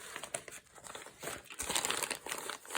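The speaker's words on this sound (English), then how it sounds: "I love how it crinkles when you" Amazon plastic mailer packaging crinkles and rustles as it is handled up close, a busy run of crackling, crumpling bursts with no talking.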